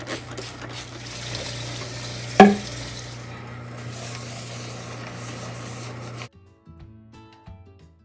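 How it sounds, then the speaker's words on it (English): A butter churn turns steadily, giving a continuous rubbing, sloshing drone with one sharp knock partway through before the sound stops and the room falls nearly quiet. "So while my butter churns"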